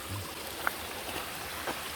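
A small stream runs along a hiking trail in Shenandoah National Park, a steady, close rushing wash of water flowing over little pools, with no voices.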